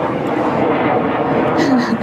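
An airplane flies slowly overhead, a steady broad roar that swells slightly near the end, heard under people talking.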